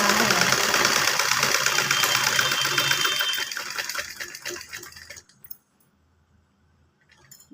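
A sewing machine stitching elastic onto pants runs in a fast, dense mechanical whir for about four seconds, then slows and stops, leaving near silence broken by a soft click.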